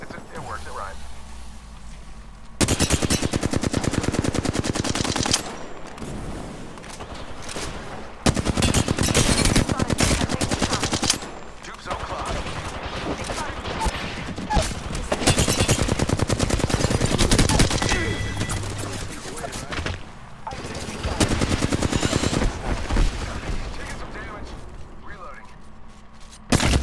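Rapid machine-gun bursts in an aerial video game battle, loud sustained rattling volleys repeating in long stretches with brief pauses, mixed with engine drone and background game noise, while a person talks over much of it.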